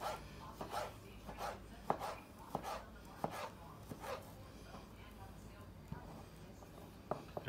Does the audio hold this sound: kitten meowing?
no